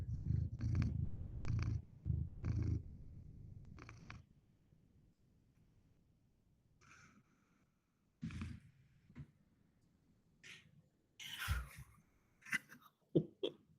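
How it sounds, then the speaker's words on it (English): A house cat purring while kneading on a person's leg, close and soft, a rumbling purr in rhythmic bursts, later joined by small clicks, shuffles and brief noises. "That's my cat June, who's currently making biscuits on my leg."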